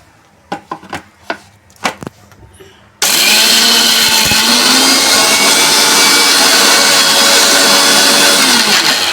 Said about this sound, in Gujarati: હવે આપણે ઓર્ડરની દાળ ક્રશ કરીશું